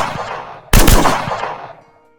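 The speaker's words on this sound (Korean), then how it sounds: "갑자기 짧은 총성이 어둠을 갈랐습니다" A single sharp gunshot bursts out on a rainy night, a sudden loud crack followed by a decaying echo that fades into silence, heard under dramatic narration backing.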